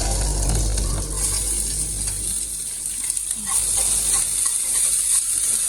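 Onion, curry leaves and ginger sautéing in a pan produce a close, steady frying hiss with soft stirring, with a low hum beneath and no speech.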